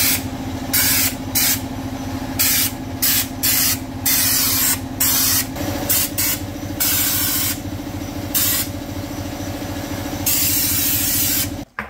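Stepstone anti-chip coating is sprayed onto the underbody of a CV6 Monaro during a suspension and brake build, heard as loud, close hissing bursts with short pauses between passes over a constant compressor drone.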